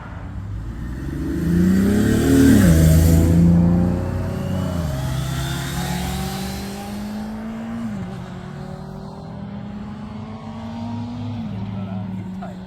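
Two supercharged LSA-engined cars rev loudly nearby, rising to a roaring peak before dropping into a lumpy idle broken by repeated throttle blips.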